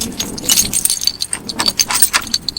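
A bunch of keys jangles close by as a door is unlocked, giving bright, irregular metallic clinks and rattles in quick bursts throughout.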